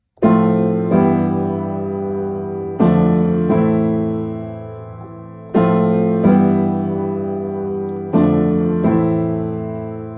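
Piano chords played with both hands, struck one at a time in a slow, steady progression, each ringing out and fading before the next.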